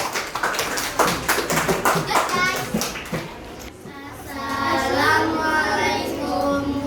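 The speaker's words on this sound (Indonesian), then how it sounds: "Aplaus untuk kelompok Nutrisari" A group claps for the Nutrisari team in a classroom: a steady patter of many hands, fairly close, with children's voices chattering over and after the clapping.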